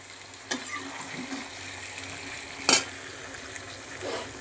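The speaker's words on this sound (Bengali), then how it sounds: "এবার ভালো করে কষাতে হবে মাংসটাকে" Mutton being sautéed and stirred in a pan at home, giving a quiet steady sizzle with a couple of sharp scrapes or clanks of the spoon against the metal.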